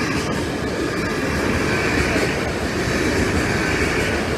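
A train rumbles past continuously on the East Coast Main Line diversion via Lincoln, a dense broadband roar with rattling wheels on the track, loud and close throughout.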